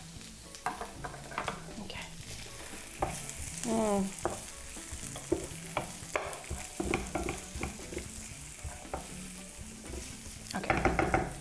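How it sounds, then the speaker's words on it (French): Green bell pepper sautéing in a pan for a vegetarian black bean burger, with a steady sizzle broken by scraping stirs and a few utensil clinks, and a brief word spoken near the end. "pour le poivron vert, il est sauté"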